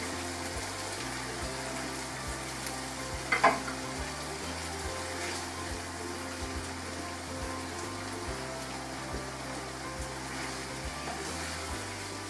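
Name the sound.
marinated fish sizzling as it is added to the pan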